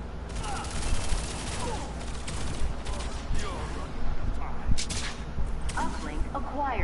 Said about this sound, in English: Wait, who's shooting at me?